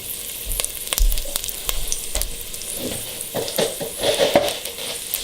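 Oil sizzles and fries in a hot pan set to medium-high heat while preparing beef stroganoff, a loud continuous crackle broken by stirring and pan clatter throughout, with no voices.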